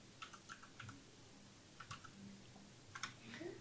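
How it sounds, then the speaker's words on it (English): Someone types softly on a computer keyboard, with scattered light key clicks in small clusters heard faintly at a distance over a low background hum. "তোমার keyboard sound also করে যাচ্ছে।"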